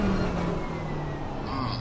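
Engines of McLaren and Mercedes GT3 race cars droning steadily in a racing video game at Paul Ricard, a continuous mid-level hum with a faint rising tone near the end.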